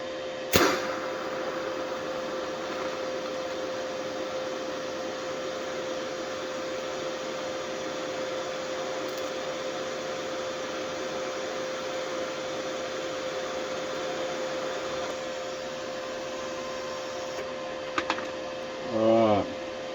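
A GIANTZ budget TIG welder arcs steadily with its amperage turned up, a continuous close hiss and electrical buzz with a sharp crackle at the start and a few brief clicks near the end.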